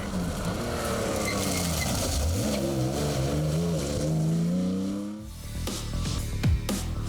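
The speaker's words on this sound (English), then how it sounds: "In the gorgeous sounding Porsche 911 are Anthony Robinson and Paul Wakely." Porsche 911 rally car on a tarmac stage of the Ulster Rally, its engine revving loud and close with rising gear-change sweeps, then cutting off abruptly before sharp bursts of passing noise.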